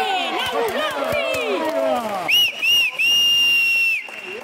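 After a penalty save at a youth women's under-16 football match, a loud whistle blows several times in short then long blasts, following a burst of crowd cheering and shouting.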